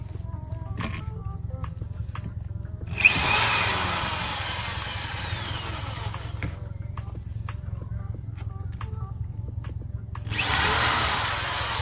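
A power drill drives screws during a van rebuild, two sustained whirring runs of a few seconds each separated by quieter handling clicks and knocks, fairly close and loud.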